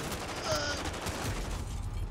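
Dense gunfire in the video game Call of Duty: Modern Warfare, a crackle of overlapping shots and distant bursts in a busy noisy mix with no clear single shot.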